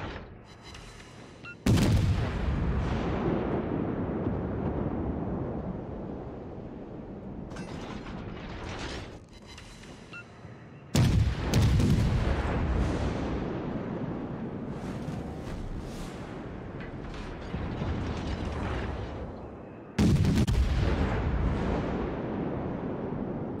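Naval guns firing in the warship battle game World of Warships: three heavy, booming salvos, each a sudden loud blast trailing into a long, rumbling decay, spaced roughly nine seconds apart with mechanical clatter in between.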